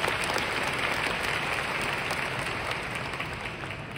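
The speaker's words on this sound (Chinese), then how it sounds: "我们真的是给绿微一个掌声。" A large audience in a big conference hall applauds in a dense, loud, sustained wash of many hands clapping, which fades slightly toward the end with no voices over it.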